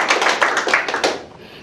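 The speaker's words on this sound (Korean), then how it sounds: "좀 박수 한번 쳐보십시오." An audience at a lecture claps, a short burst of brisk overlapping hand claps that fades out within about a second and a half.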